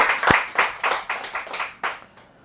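A few pairs of hands clap in an uneven rhythm on a podcast, about seven distinct close claps spread over two seconds, fading out at the end.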